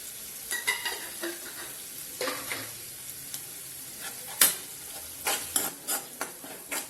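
An onion, tomato and green chili tempering sizzles in a pan, frying steadily at low volume while a spoon stirs and scrapes in irregular clicks and taps, with no voices.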